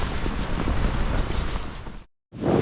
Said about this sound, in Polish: ale ten wiatr to jest jakiś szaleniec.